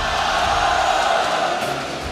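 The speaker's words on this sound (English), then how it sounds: "I literally can feel the roar of the crowds in my chest" Crowd at a Malaysian esports tournament, MPL MY Season 14 playoffs, roaring in a large arena: a dense, loud, sustained wall of cheering that holds steady and eases slightly near the end.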